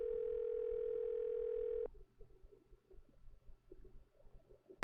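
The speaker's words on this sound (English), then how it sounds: "Shoutouts to the phone still ringing throughout this entire conversation" Phone in a Nancy Drew mystery game giving a steady electronic ring tone that holds for about two seconds, then cuts out, leaving faint muffled background noise and a brief click at the end.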